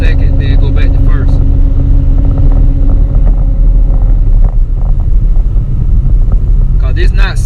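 Engine of a turbocharged Camaro with a reverse manual valve body TH400 transmission, decelerating and dropping from second to first gear, a loud steady low rumble with wind buffeting throughout and brief higher whines at the start and end.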